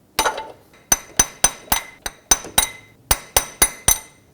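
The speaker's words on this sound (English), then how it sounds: "I'm just using a punch and a hammer" A hammer strikes a steel punch to slide back a power steering pump bracket: about a dozen sharp, ringing metallic taps in short irregular bursts, close and distinct with silence between them.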